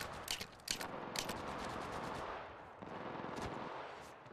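Automatic weapon fire in the mobile video game Apex Legends Mobile comes in fast bursts and crackling shots, loud and close, with brief gaps between volleys.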